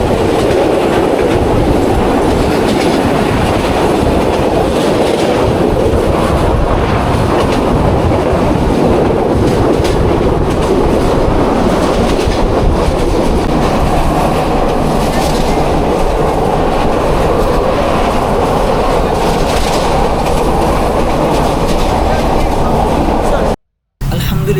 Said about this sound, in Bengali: দেখলাপুর স্টেশন থেকে চট্টগ্রামের উদ্দেশ্যে মেল ট্রেন দিয়ে রওনা হচ্ছে।